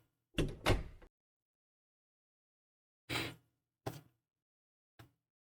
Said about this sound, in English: To calm down a little, you walk in and shut the doors behind you.